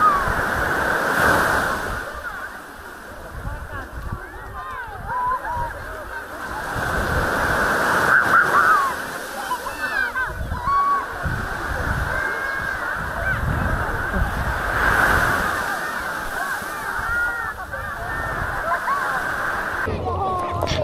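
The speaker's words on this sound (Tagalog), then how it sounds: "ang marinig mo lang ang hampas ng tubig sa dalampasigan" Waves wash onto the shore at a beach in Ilocos Norte, Philippines, in repeated surges, a broad rushing roar, with honking geese and other birds calling over it throughout.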